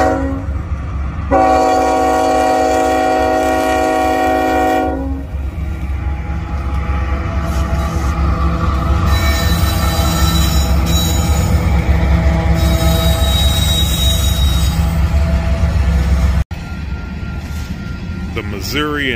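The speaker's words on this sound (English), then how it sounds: "we got a westbound Union Pacific proceeding west" Westbound Union Pacific freight train passes near a railroad junction, with a loud horn blast lasting several seconds, then a long, close, heavy rumble of wheels and cars with squealing, ending in a brief dropout.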